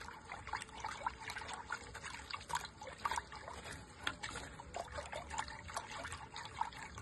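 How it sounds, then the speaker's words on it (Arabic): A spoon stirring a wet flour mixture for homemade village bread, producing steady close-up sloshing, wet clicking and scraping in an irregular rhythm, with no talking. "نقلب كده."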